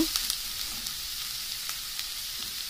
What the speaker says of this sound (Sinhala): මේක ටිකක් රන්වන් පාට වෙනකම් ටිකක් ටෙම්පරාදු කරගන්න